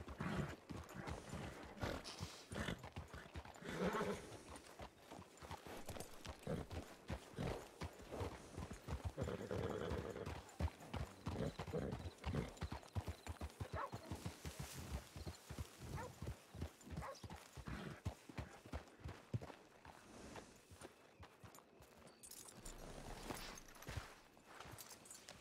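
Horse hooves clip-clopping in a Red Dead roleplay video game set around Blackwater, a steady continuous rhythm of hoof strikes throughout with occasional louder thuds.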